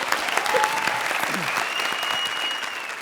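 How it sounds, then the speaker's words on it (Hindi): A television comedy show's studio audience breaks into sustained, loud applause, with dense clapping running evenly through the whole stretch. "हमारी गेस्ट जोड़ी के साथ जुड़ी हुई सुपरस्टार प्रिया के लिए जोरदार तालियां।"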